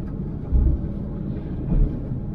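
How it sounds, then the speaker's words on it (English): Wind pummels a vehicle on a stormy, rainy day on Random Island, Newfoundland. It comes as a steady low rumble inside the cab, with two heavier gusts thumping against the body. "Hear the wind hitting the vehicle."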